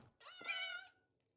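A cat meows once inside a house in The Elder Scrolls Online, a single drawn-out, close and clear call with no voices over it.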